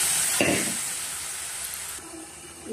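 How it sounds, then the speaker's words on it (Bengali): Dal for sambar is poured into a hot pan with a sudden splashing burst, then settles into a steady, close sizzling hiss that fades slightly toward the end. "ডালটা ঢেলে দেবো।"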